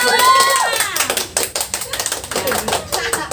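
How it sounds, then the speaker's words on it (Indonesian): A small group in a counselling session claps together, a dense run of close hand claps lasting several seconds, with a voice speaking over the start. "Beri aplaus untuk kita semua"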